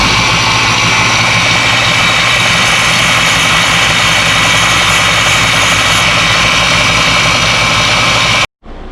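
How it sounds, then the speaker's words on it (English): A small belt sander grinds a steel-core part for an Olds 400 engine build, giving a loud, continuous whirring roar that holds steady for about eight seconds before stopping abruptly. "I'm going to use my little belt sander here."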